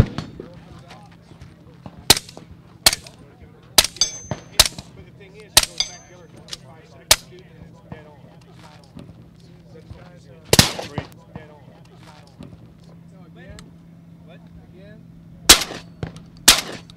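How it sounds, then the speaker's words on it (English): A suppressed 12-gauge shotgun fires outdoors at a range, sharp cracks spaced irregularly across the stretch, some in quick pairs, with a low steady hum and faint talk between shots. "That was a 12-gauge shotgun."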